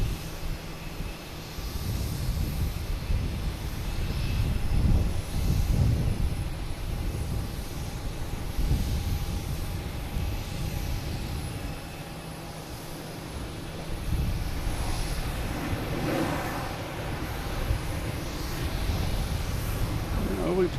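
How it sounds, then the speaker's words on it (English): An American Airlines Airbus A319 airliner arriving at Boston Logan Airport from DC gives a broad, steady jet roar that swells and eases over about twenty seconds, moderately loud, with outdoor wind noise around it. "So we have an American Airlines coming in from DC."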